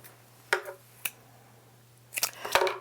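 Scissors snipping string for a craft card, a few sharp close clicks, one early and a quick pair near the end, quiet otherwise.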